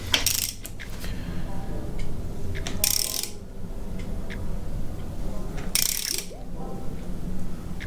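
Breaker bar working loose the crank hub bolt on a GM LT1 engine, with repeated metallic ratcheting clicks and clanks in bursts over a low background, close up and without talk.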